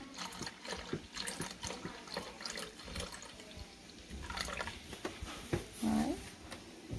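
Beef broth poured into an Instant Pot over meat, a soft uneven splashing and trickling of liquid with little clunks and knocks, faint and close, heard with no talk.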